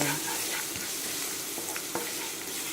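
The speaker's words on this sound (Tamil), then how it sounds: "ஃப்ரை பண்ணணும்" Tomato kulambu masala frying in a pan, a soft steady sizzle with a few light taps and stirs from a spoon, close by and without talking.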